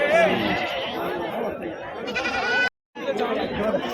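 Goats bleat at the Pebbair livestock market amid a crowd, several wavering calls rising over steady chatter and voices, then a brief dropout before the noisy bustle resumes.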